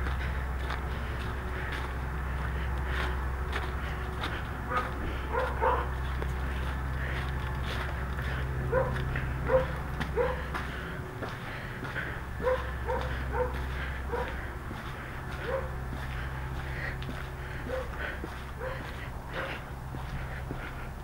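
A dog barks and yips in short intermittent bursts outdoors during rare snowfall in Texas, moderately distant over a steady low background rumble.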